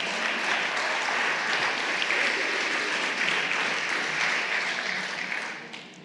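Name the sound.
church congregation applauding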